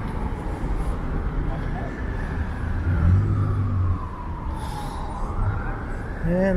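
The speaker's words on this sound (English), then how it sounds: "this is always a traffic nightmare at this time of day" Steady city traffic on Spadina Avenue in downtown Toronto at a busy time of day, a continuous roar of passing cars with engines rising and falling nearby, heard from the street.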